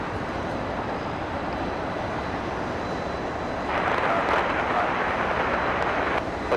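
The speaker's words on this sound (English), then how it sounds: "the gorgeous Dreamliner coming in" Boeing 787 Dreamliner coming in to land at Los Angeles: continuous jet engine roar at a distance, swelling noticeably louder midway as the aircraft draws nearer, then holding steady.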